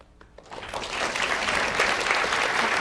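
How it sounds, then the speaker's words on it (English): A studio audience at a televised talk show about politics bursts into applause, quickly swelling from a few claps into dense, sustained clapping from many people at moderate distance. "All right, you're clapping"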